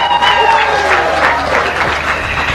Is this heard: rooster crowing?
no